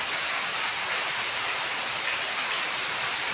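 Heavy rain pours down steadily in a dense, loud, continuous hiss with no pauses, with no voices present.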